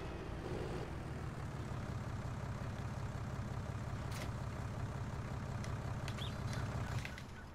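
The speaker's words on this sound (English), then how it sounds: "Turn the tractor off before I get out of it." Tractor engine idling in Farming Simulator 19, a steady low rumbling drone with a faint rhythmic pulse, constant and unbroken, with a few brief clicks and squeaks on top near the end.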